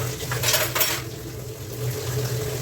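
Dishes and utensils clattering while being washed up in a home kitchen, a few sharp clinks early on over a steady running-water and room hiss, no speech.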